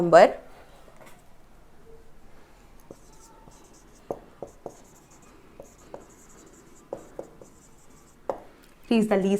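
Marker or chalk writing on a board during a math lesson, a series of short taps and scratches in irregular bursts, with someone speaking at the start and end.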